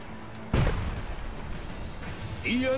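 A cannon in the video game Assassin's Creed Chronicles China fires one loud booming blast, followed by rumbling game noise with a voice speaking over it.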